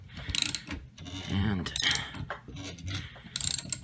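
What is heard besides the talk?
AK rifle barrel being installed, mechanical clicking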